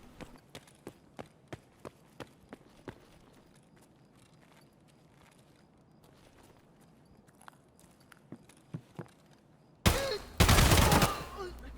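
Single gunshots from a weapon in Escape From Tarkov, a series of sharp evenly spaced cracks that thin out over several seconds, then a loud burst of noise near the end.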